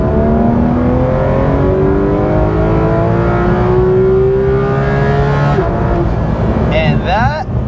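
A Porsche 911 GT3 RS engine winds up along a straightaway toward 9,000 RPM, a loud, close, steadily climbing howl that peaks and then cuts off, followed by a brief burst of rising and falling tones.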